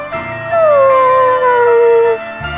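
A dog in Bravely Default II lets out a long, loud, drawn-out howl that slowly falls in pitch, set over quiet game background music.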